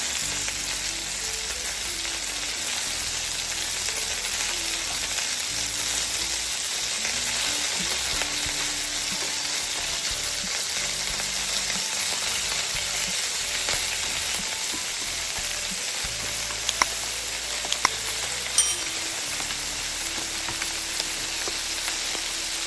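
Chicken wings sizzle on a grill in a steady, close crackling hiss that holds evenly throughout, with a few brief sharper pops near the end and no talking.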